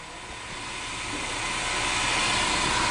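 A spin rinse dryer during a wet test, its rotor turning smoothly at 1800 RPM; a steady broadband whirring hiss that grows slightly louder across the stretch, heard alone with no talk.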